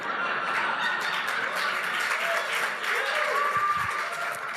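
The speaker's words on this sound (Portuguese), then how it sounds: "Uma risada e aí um aplauso espontâneo da turma." A class breaks into spontaneous applause with some laughter mixed in, a dense, steady wash of clapping that fills the room for several seconds.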